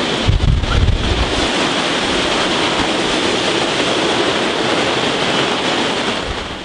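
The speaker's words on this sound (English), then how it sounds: "As the wind started topping 70 knots at our masthead, we knew it was going to be a long night ahead." Hurricane-force wind, around 70 knots, roars over a sailboat with waves crashing around it. The rushing noise is loud and constant, with heavy buffeting against the microphone.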